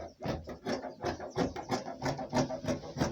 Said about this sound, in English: I'm cutting two at a time.